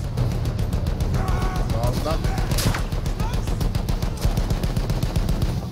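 A field gun and rapid automatic weapons fire in a Battlefield 1 battle, a steady loud stream of shots with a sharp blast midway, while voices shout over the chaotic combat.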